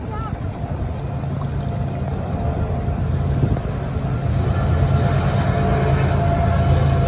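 A freight train with a distributed power unit locomotive rolls past at close range, a loud steady rumble of wheels and engine that builds gradually and holds without pause.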